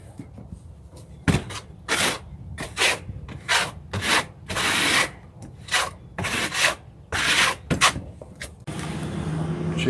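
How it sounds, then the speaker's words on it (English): VersaBond thinset mortar is troweled onto a concrete surface for a stone veneer install, giving repeated scraping and rubbing strokes in an uneven rhythm, close and fairly loud, with no talking. "So then I just trowel out this thin set."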